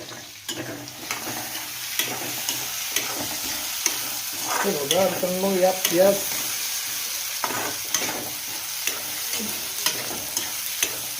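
A tempering for kadhi pohe sizzles and spits in a little oil in a pan while a spoon stirs, the frying rising briefly louder midway; a voice speaks at the start.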